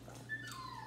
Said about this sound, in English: My dog stayed making noises in the background.